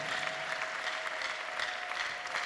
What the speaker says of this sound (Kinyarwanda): reka duhereze Imana amashyi menshi cyane